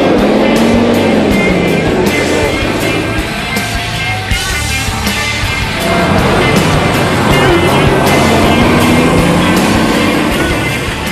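A test truck on Michelin test tyres drives across a wet, slippery polished concrete test track, giving a loud, continuous road roar with hiss and rumble. The sound dips briefly midway, then swells again.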